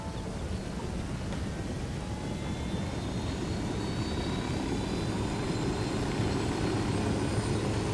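A helicopter in Ghost Recon Wildlands spins up for takeoff, a loud continuous rotor and engine roar with a slowly rising whine, steady and close for the whole stretch.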